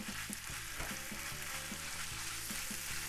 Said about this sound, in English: I'm gonna brown this, just get it all browned up really nice.